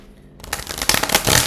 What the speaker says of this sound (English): I'm just going to shuffle 2-3 more times and I'll get a spread.